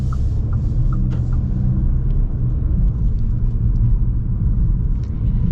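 The turbocharged four-cylinder of a 2024 Audi S3 pulls under load as a steady, dense low rumble heard from inside the cabin, with faint road noise and small clicks over it.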